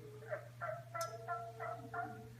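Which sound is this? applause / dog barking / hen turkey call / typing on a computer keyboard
hen turkey call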